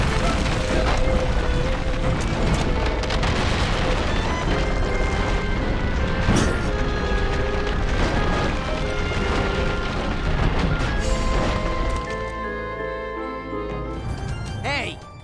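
In the Ben 10 Ultimate Alien: Cosmic Destruction video game, an explosion and falling ceiling beams rumble and crash beneath dramatic music, with several sharp impacts through a loud, dense mix before it thins near the end.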